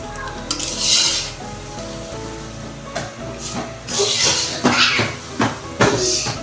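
Sugar being stirred in a pot for homemade popcorn, heard as close, repeated scraping strokes with a sizzling hiss that swells and fades in uneven bursts.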